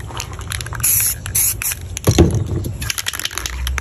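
A spray paint can hisses blue paint onto a planet artwork in short bursts, close and fairly loud, with a few scraping and handling noises between sprays.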